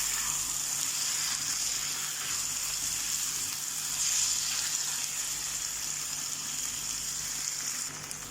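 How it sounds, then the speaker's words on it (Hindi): Minced meat (keema) fries in a pan for keema khichdi, a steady, close hiss and sizzle that holds evenly throughout and eases slightly at the end, with no talking. "अब कीमे को अच्छे से भुनना है।"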